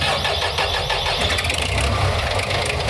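A Belarus-82.1 tractor's diesel engine starting up, a loud, close, churning rattle that settles into a steady rough running clatter throughout, with no talk.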